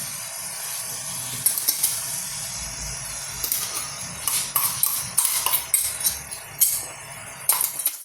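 Greens curry with spinach and taro and a ground coconut paste sizzling in a pan as it is stirred, with a steady fry hiss under repeated spoon scrapes and clinks close by, no voices.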